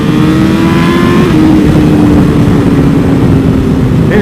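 A full carbon BMW S1000RR sport bike's engine drones loud and close in a steady, rising rev as it pulls away, the pitch climbing smoothly over a continuous roar.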